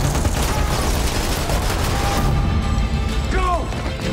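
Rapid bursts of gunfire sweep through a World War II film trailer, dense and loud over a churning soundtrack, then fading toward the end as brief tonal sounds and effects take over.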